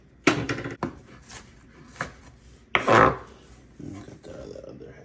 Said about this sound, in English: Nice rough chop, people. Nice rough chop.